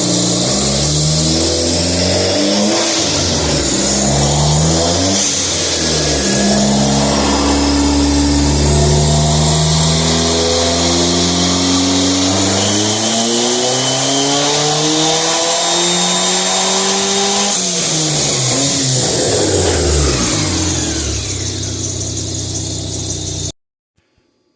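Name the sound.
Dodge Neon SRT-4 engine revving during pulls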